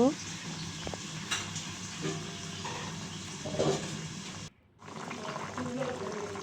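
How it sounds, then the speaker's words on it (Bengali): Fish curry with stem vegetables and potato bubbling in a pot as it comes to a boil, a steady sizzling bubble with stirring clatter under a nearby speaking voice. "এই তো বলক এসে গেছে"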